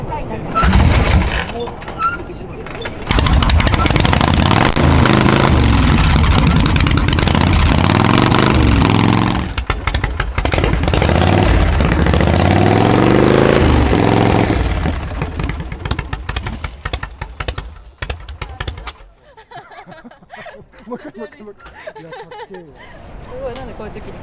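A vintage Harley-Davidson Shovelhead motorcycle engine cranks and fires up, then runs loud and close in a rough rumbling idle for about fifteen seconds before settling lower, with people talking throughout.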